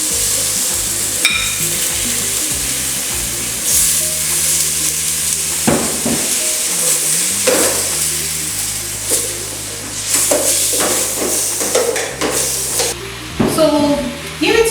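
Minced beef seasoned with thyme and curry sizzles loudly in a pan on a gas cooker while a utensil stirs and scrapes, a constant close frying hiss with background music playing.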